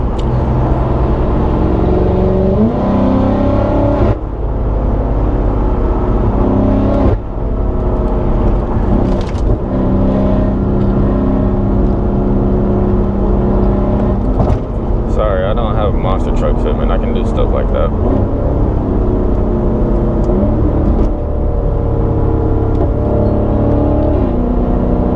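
A BMW F90 M5 Competition LCI drives through heavy traffic, with a steady, loud engine and road drone that swells and eases as the revs change. A person talks over it throughout, and brief clicks and rattles break in now and then.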